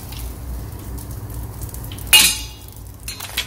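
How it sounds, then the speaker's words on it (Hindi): Chicken wontons deep-fry in hot oil with a soft continuous sizzle, interrupted by a sharp clattering metal clink from a utensil and a few lighter knocks near the end. "फ्लेम को और भी मैंने थोड़ा सा स्लो कर दिया है और इस तरह से सारे हम फ्राई कर लेंगे।"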